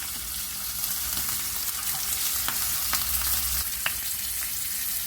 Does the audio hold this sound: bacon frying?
yes